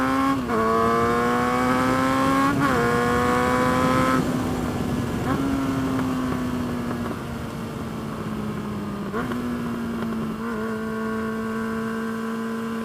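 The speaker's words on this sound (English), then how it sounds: "So riding a subscriber's 600 Bandit, restricted one." A restricted Suzuki Bandit 650 motorcycle on the move, its engine droning steadily with a few gear changes and rises in pitch, loud and close throughout.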